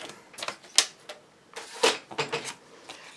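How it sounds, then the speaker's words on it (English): A paper trimmer slices through a sheet of paper in a run of sharp, close clicks and scraping strokes, uneven in rhythm, with no voices over it. "So I'm going to take my trimmer."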